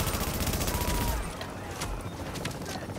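Rapid bursts of gunfire crackle in The Division video game's Dark Zone, a dense automatic volley for the first second, then scattered sharper shots at moderate distance, fairly faint overall.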